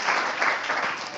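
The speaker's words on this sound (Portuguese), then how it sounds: "Aplauda ao Senhor." A church congregation applauds together during a worship service, a dense, steady wash of clapping that holds across the moment at moderate loudness.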